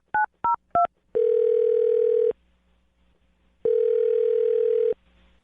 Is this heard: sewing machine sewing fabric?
no